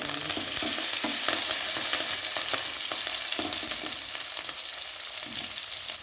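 Onion, green chilli and curry leaves hitting hot oil with mustard seeds for a green gram kuzhambu, giving a dense, loud continuous sizzle with light stirring scrapes and no speech.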